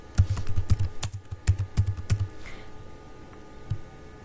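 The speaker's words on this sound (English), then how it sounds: "if you are typing manually like this" Quick clicking keystrokes on a computer keyboard, a rapid burst of typing that trails off into near silence with one last tap.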